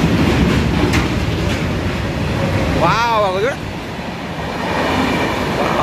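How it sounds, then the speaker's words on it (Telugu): A train passes near Pithapuram railway station, its broad steady rumble close and loud throughout, with a rising and falling whistle-like tone in the middle and a person exclaiming over it. "ఇక్కడ ట్రైన్ పోతుంది."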